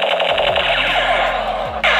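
Battery-powered toy Beast gun firing, a loud continuous electronic buzzing with stepped tonal sound effects, ending in a brief dip and then a burst back up.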